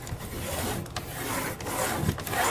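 A knife scores a line along a straight edge on a wooden shadow box board, giving soft, steady scraping rubs with a few brief pauses, close and fairly quiet.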